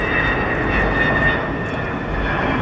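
Tu-95 and Tu-160 strategic bombers flying overhead at about 300 metres above Kazan, a loud steady engine roar and drone filling the air, continuous and powerful with no talk.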